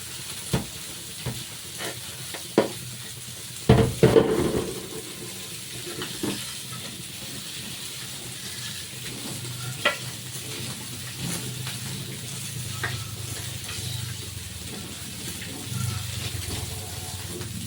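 Fish grills over a bed of leaves, giving a steady low sizzle with scattered pops. A sharp knock or clatter sounds early on, then the hiss carries on at a moderate level with no voices.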